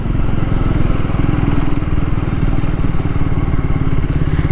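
A Triumph Tracker 400 motorcycle being ridden, its engine giving a steady, loud, close rumble with a rapid pulsing beat and constant wind and road noise, with no talking.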